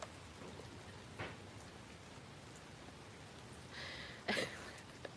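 Steady rain falls outdoors around a parked Bronco, a soft even hiss throughout with a couple of brief louder splashes or drips near the end.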